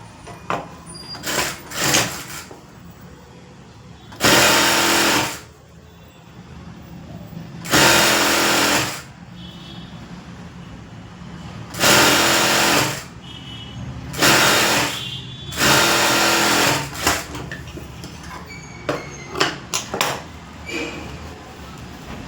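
A sewing machine stitches lining onto the boat neck of a garment in several short, loud bursts of about a second each, separated by quiet pauses, with no talking.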